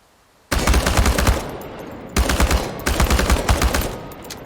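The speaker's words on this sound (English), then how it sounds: "The biggest challenge is compensating for recoil in automatic firing mode." Loud bursts of automatic rifle fire aimed at cans on a practice range in Chernobylite, a rapid rattling string followed by two more close, sharp volleys after brief pauses.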